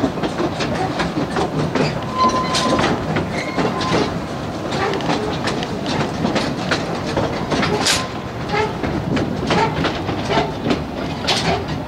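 A heritage narrow-gauge train on the Cripple Creek and Victor line in Colorado rolls along the tracks with steady clickety-clack rhythm and rumbling, loud and close, continuing without pause.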